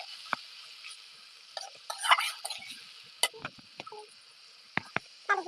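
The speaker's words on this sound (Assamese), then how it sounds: "মই পিচি থোৱা সৰিয়হ দিছোঁ।" Ground mustard hitting hot oil with fried onions in a pan, soft sizzling under scattered clinks and scrapes of a spoon stirring against the pan, close and fairly quiet with sharp intermittent knocks.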